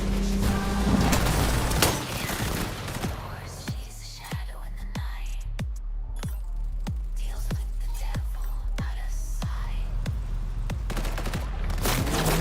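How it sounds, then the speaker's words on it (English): A steady run of evenly spaced gunshots in Cyberpunk 2077, each a sharp loud bang with a short decay, coming after a dense burst at the start with no talking over it. "Who's this shooting them?"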